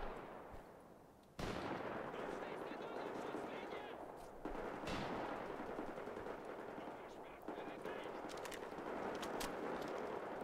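Sustained automatic gunfire from the shooter game Wolfenstein: The Old Blood, dense bursts with loud onsets around two, four and a half and seven and a half seconds, carrying on almost without pause under a busy game mix.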